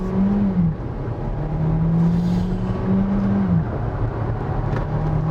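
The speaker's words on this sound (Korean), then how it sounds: "자, 지금 배가 가속 페달을 끝까지 밟았거든요." A Kia Seltos accelerates with the pedal floored, its engine holding a loud, steady drone with a whining tone that dips and rises as it pulls.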